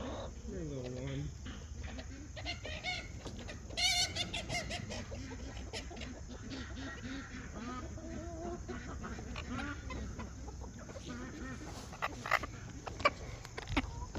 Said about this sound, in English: This is my little red-shouldered Yokohama rooster